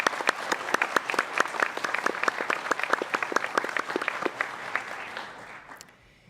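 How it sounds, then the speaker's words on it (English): Graduation ceremony guests in Canberra clap for the graduates' supporters. The applause is lively and distinct, with individual claps audible, and it fades away at the end. "giving a round of applause to all their supporters who have"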